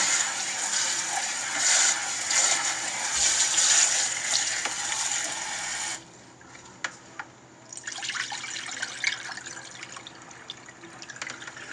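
A faucet runs hard over fresh berries being washed for about six seconds, then cuts off, leaving quieter trickles, drips and light splashes as the fruit is handled.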